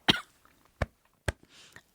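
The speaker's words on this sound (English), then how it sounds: "Franki coughed a bit as if I had made her choke on one of her bugs" Several short, sharp coughs from a woman, about three distinct bursts spaced evenly apart, close and fairly quiet, with a soft breath between them.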